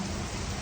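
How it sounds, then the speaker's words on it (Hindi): Heavy rain pours down in Perth, Australia, a dense, steady roar of water hitting surfaces close by, continuous and loud with no voices. "बहुत तेज़ बारिश आ रही है."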